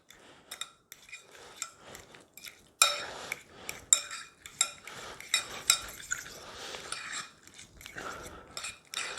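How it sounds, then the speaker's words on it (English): Ricotta cheese and an egg are stirred together in a bowl, a series of irregular wet squelches and spoon clinks against the dish, close and moderately loud with short pauses. "I'm going to break an egg into it, throw an egg into it, and then we're going to mix it up a little bit together"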